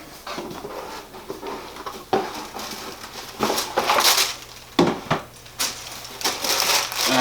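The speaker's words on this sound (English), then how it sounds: "So we're gonna open the box." Cardboard sneaker box for Alexander McQueen shoes being opened, with scattered crinkling, rustling and sharp papery thumps as lid and wrapping are handled up close, irregular and without talking.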